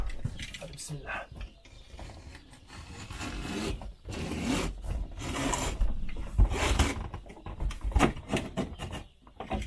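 Cutting during the interior fit-out of a camper van: irregular rasping, scraping strokes of moderate loudness repeat through the clip, with short pauses and faint voices in the background.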